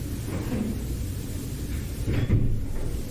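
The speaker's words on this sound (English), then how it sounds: "One of the rooms, one of the room doors closes." A room door closes somewhere in a building during a played-back ghost-hunting recording, a dull low thud rising briefly out of steady background hiss.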